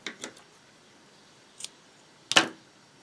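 Scissors trimming the yarn ends of a miniature loom-knitted striped hat: two quick close snips, a softer single snip, then a louder sharp cut with a brief metallic tail, against near silence.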